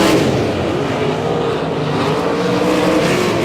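Non-wing sprint cars howl around the dirt oval at Humboldt Speedway during a heat race, a loud continuous blare of racing engines close by with little variation.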